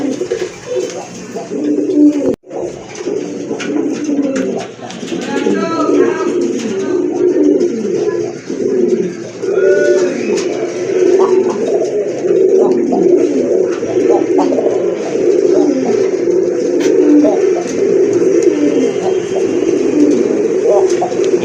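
Rajgolla pigeons, a red-coloured breed, coo steadily in a repeated low, rolling rhythm throughout, close by and fairly loud, with several birds overlapping and a faint voice briefly in the background.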